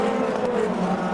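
Formula Palmer Audi race cars lapping the Nürburgring, a loud, steady engine drone holding close and continuous throughout, with a slight pitch shift as a car brakes.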